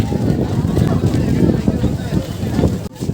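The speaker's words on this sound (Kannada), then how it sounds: "ತುಂಬ ಅಂದರೆ ತುಂಬ ಗಾಳಿ ಬೀಸ್ತಾ ಇದೆ" Strong wind buffets the microphone in a loud, continuous roar at the Gorur dam gate-opening celebration, with indistinct crowd voices faintly mixed underneath.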